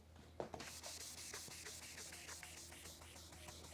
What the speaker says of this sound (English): It's made for a sander, but I'm going to use it by hand. And that's a 3000 grit.